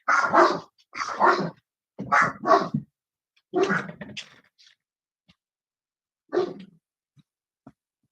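A string of short, sharp puppy barks in quick bursts, close by, then a pause and a single yip followed by faint clicks.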